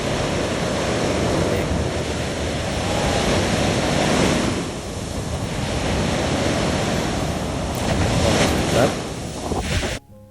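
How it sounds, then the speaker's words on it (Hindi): Sea waves surge and wash steadily onto a wide sandy beach in Busan, South Korea, a continuous loud roar of surf with wind buffeting the microphone throughout. "समुद्र की उठती लहरें"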